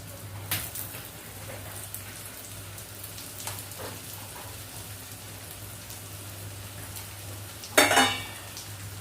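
Moong dal stirred and frying in a pan over a medium-low gas flame gives a soft, steady sizzle, with light scraping stirs and a sharper clatter near the end.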